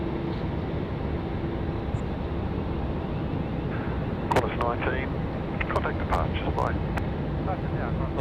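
A Qantas airliner with a big wingspan taxis onto the runway at Sydney Airport, producing a steady distant engine rumble and wind-blown hiss. A commentator speaks briefly over it toward the end.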